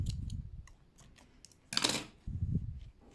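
Scissors snip through crochet yarn at close range in a few quick, crisp cuts, with a louder sharp snip in the middle, set among soft handling noises while working on crocheted baby sneakers.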